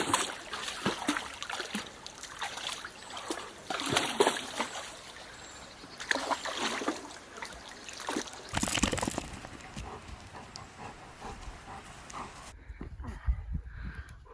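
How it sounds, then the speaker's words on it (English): A dog named Oscar splashes and sloshes about in water outdoors at Nether Wasdale in the English Lake District, with irregular close splashes and trickling that continue steadily, then stop abruptly near the end. "Oscar's found water."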